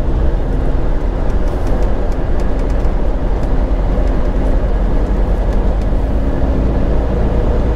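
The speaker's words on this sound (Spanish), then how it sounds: "Ya veis los trenes, ¿no? Cruzando la ciudad" Trains rumble through a city in Weil am Rhein, heard as a steady, loud low roar of rail and traffic noise that carries on for the whole stretch, with no voices.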